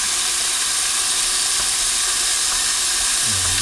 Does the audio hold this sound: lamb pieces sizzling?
yes